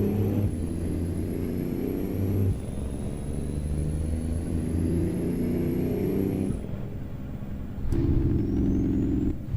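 A heavy truck hauling a 50,000-pound load in American Truck Simulator rumbles with a deep engine drone and jake brake chatter, steady and loud, shifting tone midway then briefly surging near the end.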